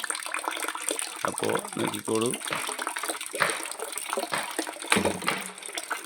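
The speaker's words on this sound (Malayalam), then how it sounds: "ടാങ്കിൽ വെള്ളം പോകുന്നു" Water rushes steadily into a tank, a constant hissing flow, while someone speaks over it.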